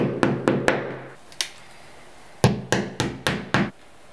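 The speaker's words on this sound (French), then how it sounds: "Tu marques ensuite les emplacements au poinçon et tu y perces les trous." A hammer strikes a centre punch to mark drilling points on a wall before fitting a new toilet cistern: three quick taps, a single tap, then a run of five sharp, close, loud knocks.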